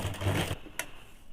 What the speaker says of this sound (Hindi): अब चाप सिलाई चलाने के बाद नीचे वाले पोर्शन में भी एक सिलाई डाल देंगे।